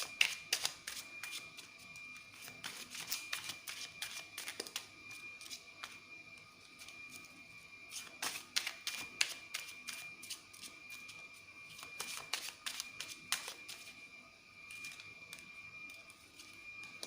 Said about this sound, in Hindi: ये आपके कार्ड्स निकल गए हैं दोनों ही डेक से